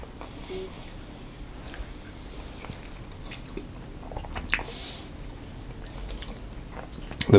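Bites and chewing of a deep filled mince pie with tender pastry, heard as soft, irregular crunchy and squishy mouth sounds, close and quiet, with a few sharper crisp clicks scattered throughout.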